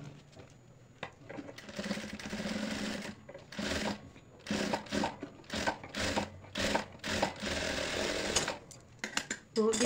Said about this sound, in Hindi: इस पर हम सिलाई लगा लेते हैं पहले